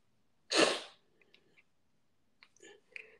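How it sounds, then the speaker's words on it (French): A single sharp sneeze bursts out close and loud, followed by a few soft breaths and faint mouth clicks. "Je veux éternuer."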